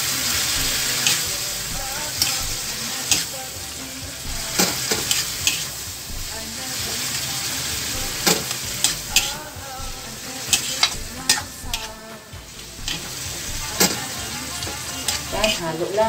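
A utensil stirs sarciado of dried labahita fish in a pan, with a steady close sizzle and frying hiss under repeated scraping and clinking strokes against the pan.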